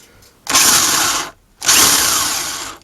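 A power drill with a 1/2 inch bit bores a hole to fit the motor shaft of a homemade wood lathe, in two close, loud bursts of whining drilling with a short pause between them.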